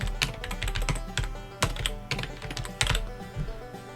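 Text being typed on a computer keyboard, with quick irregular bursts of key clicks and a few heavier strokes, close and clear with no talking.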